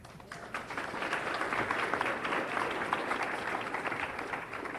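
A seated audience at a 2022 San Jose mayoral candidates forum applauds steadily, a dense, fairly even wash of clapping heard from within the room for nearly five seconds with no speech over it.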